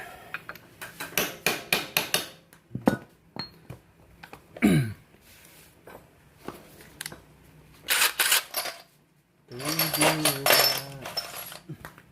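Sharp metallic hammer blows strike the kick starter of a Yamaha Vega R New motorcycle that slips when kicked, coming in irregular clusters with clinks and quiet pauses in a close, small workshop.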